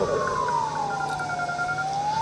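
An ambulance siren wails at an airport as the vehicle heads along a taxiway, one long, loud, sweeping tone that falls and then begins to rise again over a steady background rumble.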